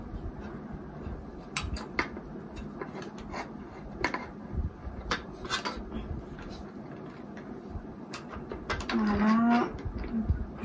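A metal bar fitting being unscrewed by hand, giving faint, irregular metallic clicks, ticks and small creaks with a short louder scraping rattle near the end.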